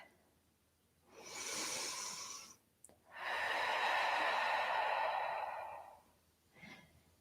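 Slow, deep breaths taken during an energy exercise, a long inhale and a longer audible exhale, close and breathy, followed by a faint short breath at the end.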